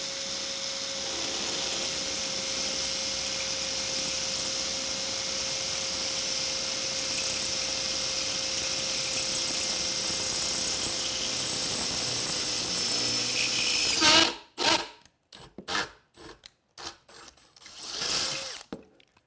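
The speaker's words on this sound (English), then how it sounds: "that noise, by the way, is that my drill started rubbing against the clamp" A power drill grinding and rubbing against a clamp during superstructure building, a steady loud whine filling most of the stretch before cutting out into a few short bursts and stops near the end.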